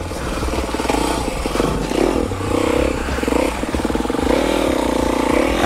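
An enduro motorcycle is ridden through a training exercise with the rider working the brake, its engine loud and close, droning and revving in shifting pitches with clattering mechanical noise throughout.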